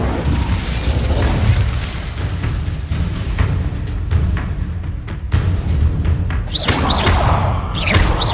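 Incendio fire spells blast in the video game Hogwarts Legacy amid dense, continuous combat noise, with booming thuds and bursts layered throughout and brighter whooshing flares near the end.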